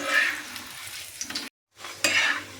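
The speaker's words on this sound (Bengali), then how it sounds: "তেলটা গরম হয়ে গেছে, আমি পরোটাকে এবার ছেড়ে দেবো তেলের উপরে।" A paratha frying in hot white oil on a griddle sizzles loudly and crackles with stirring scrapes, cutting out to a brief silence midway before the sizzle returns.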